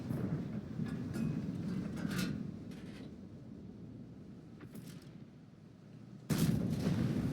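Booming tank cannon blasts in World of Tanks, several heavy shots with rumbling tails over steady low engine noise, a loud burst near the end.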